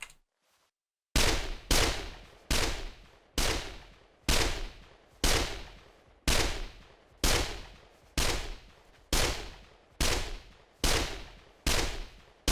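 Rifle fire in the tactical shooter Ground Branch, about a dozen sharp single shots at a steady, evenly spaced rhythm, each with a short decaying tail, loud and close with no talking.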